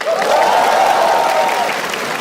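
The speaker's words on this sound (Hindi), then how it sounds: "थोड़ी तालियां हमारे ओपनिंग एक्ट के लिए भी।" Loud applause from a comedy-show crowd for the opening act, thick and sustained, with a cheering voice carrying over the clapping through most of it.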